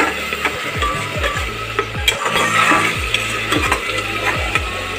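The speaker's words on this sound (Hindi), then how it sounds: "अब हम इसको थोड़ा सा देखिए बढ़िया से मसाला को भुनेंगे" Masala roasting in a pan for a corn mushroom biryani, a spoon scraping and stirring in a steady repeated rhythm over a continuous sizzle, close and loud, with no talking.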